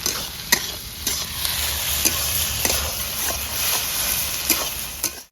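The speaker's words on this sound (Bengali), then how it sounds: "দুটো মিনিট নেড়ে চেড়ে ভেজে নিয়েছি আদা রসুন" Ginger and garlic fry in a pan for a chicken and new potato curry, a steady close sizzle broken by repeated sharp clinks and scrapes of a spoon stirring at an uneven rhythm, with no voices.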